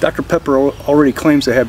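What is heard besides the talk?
No distinct noise like a dog, phone or traffic.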